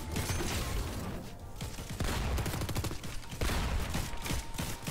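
Rapid bursts of gunfire from another team in a battle royale video game, a dense continuous barrage with sharp cracks rolling over roughly five seconds, fairly loud and steady with no talk over it.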